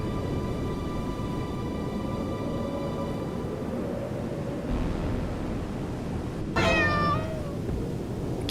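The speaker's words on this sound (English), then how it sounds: "Kitty cat jump scare." A cat meows in a sudden, sharp jump scare in the video game Midnight Scenes. It breaks in loudly near the end after a long ambient stretch of wave-like hiss and a faint sustained tone.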